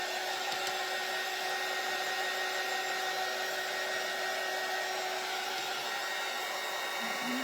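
A handheld heat dryer drying paint on a wooden snowman tiered-tray craft, a steady close whirring blow that runs unbroken and even throughout, with no talking.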